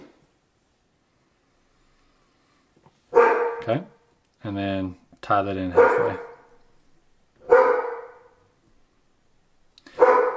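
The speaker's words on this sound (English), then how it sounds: "Sorry for my dogs in the background." Dogs barking in the background, several loud separate barks and yips spread across the clip, with a quiet stretch before them and a person briefly speaking between barks.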